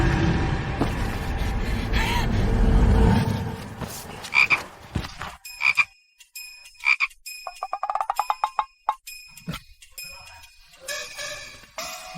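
Toad croaks in a dramatic sound effect: after a loud rumbling swell, a rapid series of sharp, ringing croaks sounds in uneven bursts, close and clear against near silence.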